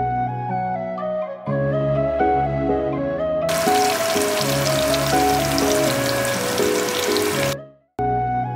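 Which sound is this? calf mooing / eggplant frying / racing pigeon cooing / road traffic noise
eggplant frying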